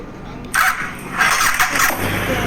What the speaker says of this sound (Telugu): బైక్ అయితే వేసుకొని పబ్బుకి పోదాం.